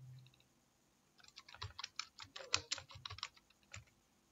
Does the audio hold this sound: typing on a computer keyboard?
yes